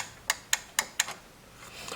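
A limit switch on an electric laundry drying rack clicks four times in a quick, evenly spaced series as the rack reaches the bottom of its travel, sharp and fairly close, followed by quiet.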